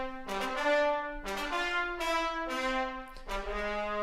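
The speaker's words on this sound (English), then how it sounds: "And then just the trombone sounds like this." Orchestral trombones from a Cinesamples library play short, punchy accented notes in a repeated rhythmic pattern, bright and brassy, with no other sound.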